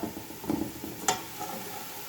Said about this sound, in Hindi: आस्ता आस्ता प्याज हमारा ब्राउन होना शुरू हो चुका है।